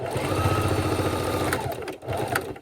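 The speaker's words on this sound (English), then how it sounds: "we lock in our stitch at the beginning, sew across, lock in our stitch" Sewing machine stitching scrunchie fabric, its fast mechanical needle chatter running steadily and close, with a brief pause and stop near the end as the seam is locked.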